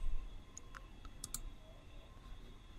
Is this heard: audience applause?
no